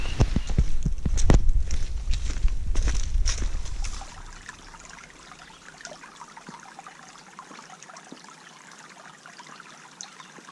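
Spring water trickling on a solo backpacking trip, heard as a steady soft babble, with louder splashing and knocking early on before the flow settles to a quiet, continuous trickle.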